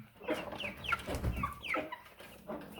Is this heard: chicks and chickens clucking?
yes